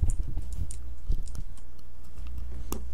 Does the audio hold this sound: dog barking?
no